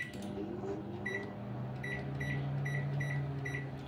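A microwave oven runs on normal mode with Hilsa fish inside, a steady low hum and whir near at hand, punctuated by a regular series of faint high beeps partway through.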